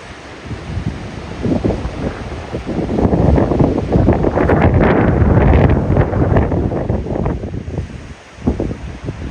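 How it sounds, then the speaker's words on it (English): Strong coastal wind near Esperance on Australia's south coast, roaring steadily and buffeting the microphone for the whole stretch, swelling loudest in the middle with a brief lull near the end, no voices. "The sound of the wind filled the air"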